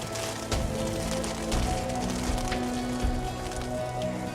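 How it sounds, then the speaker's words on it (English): Hail pattering steadily onto a garden as a sound effect in an animated children's story, a dense continuous patter with soft low thuds and a faint tonal music bed beneath. "Soon hail came down on the garden."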